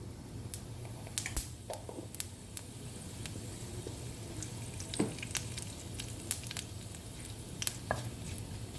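Fennel seeds dropped into hot coconut oil crackle and sizzle in a pan, with sharp scattered pops over a low steady frying hiss, close and fairly quiet.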